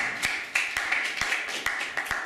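A small workshop audience claps for a volunteer: a scattered, uneven patter of individual hand claps from a handful of people, close by and brief, with no talking over it.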